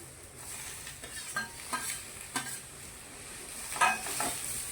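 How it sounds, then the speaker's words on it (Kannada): Tomatoes and grated coconut frying in a pan for a vegetable kurma, with a soft steady sizzle broken by a few scraping stirs of a spoon. "ಈಗ ಟೊಮೊಟೊನೂ ಸ್ವಲ್ಪ ಫ್ರೈ ಆಗ್ಬೇಕು ರೀ"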